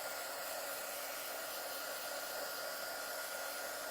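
A hair dryer runs at a steady, continuous whoosh while drying decoupage on an aluminum pail, with an even airy blowing tone and no pauses.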